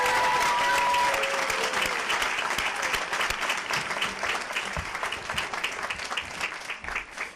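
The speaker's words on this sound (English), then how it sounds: "How about a round of applause for all the educators at Daniel Hand High School?" A round of applause at a high school graduation ceremony for the school's educators, loud dense crowd clapping that begins at full strength and slowly thins and fades, with a few faint tonal sounds early on.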